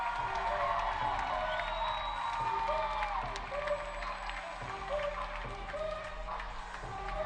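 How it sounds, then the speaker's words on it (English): Crowd at an indoor arena football game between the Amarillo Venom and the Corpus Christi Tritons, a steady roar of cheering and applause with whoops, sustained and fairly loud throughout, with a faint tone and repeated low thumps underneath. "listen to the crowd right now"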